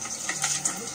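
Water pours and splashes in short bursts, near and moderately loud, with a faucet-like gush over a brief stretch.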